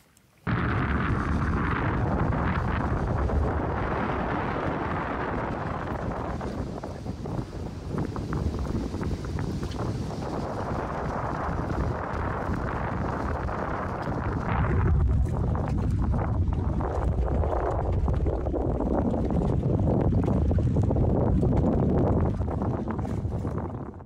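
Strong wind roars steadily across a sailboat on a Finnish lake, a loud continuous buffeting rush with gusting swells and microphone rumble, no voices.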